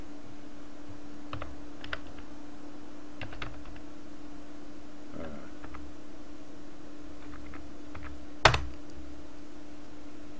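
Typing on a computer keyboard, with soft, sparse clusters of key taps spread over several seconds and one louder sharp click near the end, all under a faint steady hum.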